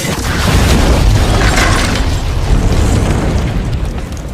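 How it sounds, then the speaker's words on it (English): A film's bomb blast destroying a bakery, a loud, sustained roaring explosion with rumbling low end and debris-like crackle that fills the whole stretch without pause. "suddenly there was a bomb which quickly blew up the bakery."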